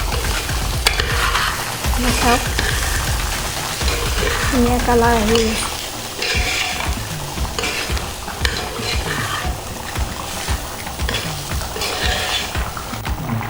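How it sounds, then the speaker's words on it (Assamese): Meat pulao being stir-fried in a pan for Diwali: a steady sizzle with scraping stirs and clinks of the spoon against the pan, loud and close, while a person talks over it. "তলত নলগাকৈ এনেদৰে ধুনীয়াকৈ লৰাই ভাজি থাকিব অলপ সময়ৰ বাবে"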